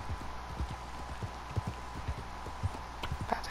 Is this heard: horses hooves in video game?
yes